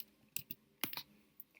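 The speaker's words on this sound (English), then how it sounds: "I'm going to go ahead and highlight that part and just click and type" A handful of sparse computer keyboard keystrokes and clicks, crisp and close, in small irregular clusters against a quiet background.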